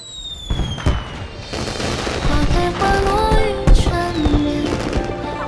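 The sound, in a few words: fireworks at the Flower God festival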